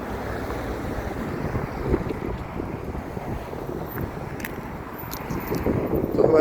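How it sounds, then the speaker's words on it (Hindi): Strong, gusty wind blows outdoors on a chilly day, buffeting the microphone with a steady low roar that surges and swells throughout. No one speaks. "अब इस वक्त मौसम थोड़ा विंडी हो रहा है, हवा थोड़ी तेज़ चल रही है"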